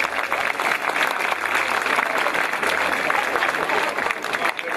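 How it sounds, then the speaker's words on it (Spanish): An audience applauds a visiting general with steady, dense clapping that fills the room at an even level from start to finish, with no clear break in the sound. "Un aplauso para el general."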